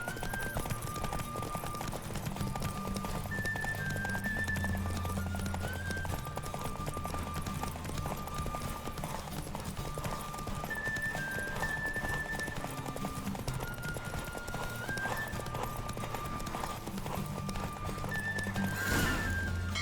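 Rhythmic hoofbeats of a galloping horse in The Witcher 3: Wild Hunt drum beneath synthetic game music with looping melodic notes, joined by a brief whinny near the end.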